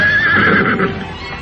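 A horse whinnies loudly and close for about a second, the call falling in pitch before tapering off, used as a radio drama sound effect with no voices over it.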